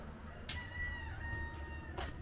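A rooster crows once in a rural village setting at Le Crozet in the Loire, a single drawn-out call heard faint and distant over a low background hum, with no voices.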